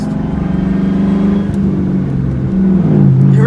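Car engine of a Mustang running steadily with a sustained mechanical whine from the engine and transmission, loud and close, the pitch sliding slightly as it revs, with no talk over it.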